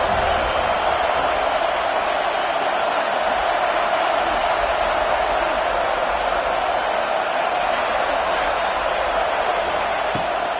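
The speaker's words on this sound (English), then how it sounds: "Decibels rising as the crowd gets behind this defense on 3rd down." A football stadium crowd on third down keeps up a dense, unbroken roar, loud and steady throughout with no distinct breaks or individual voices standing out.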